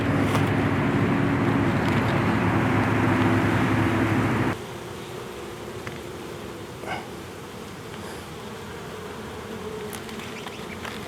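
Honeybees buzz loudly and steadily at an opened hive during a spring check, the dense drone dropping abruptly to a fainter hum partway through.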